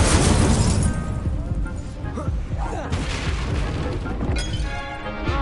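A fiery Incendio spell explosion in Hogwarts Legacy, with a loud burst of booming, crackling flame at the start, followed by further rumbling blasts and pops amid combat noise and speech.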